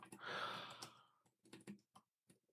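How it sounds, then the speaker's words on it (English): Fast computer-keyboard typing fills the quiet, with a dense run of clicks at first. Sparser separate keystrokes follow, close and faint, with no talk over them. "My typing has become so slow."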